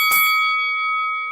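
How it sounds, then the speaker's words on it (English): A single bright bell strike opens with a sharp metallic hit and rings on with a shimmering, slowly fading tone, heard alone and fairly loud. "new bell sound effect?"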